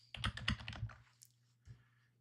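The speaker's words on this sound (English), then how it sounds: "but I'll type it in." Someone types on a computer keyboard with a quick, close cluster of soft keystrokes lasting about a second, then a brief pause and one more tap, all quiet and without speech.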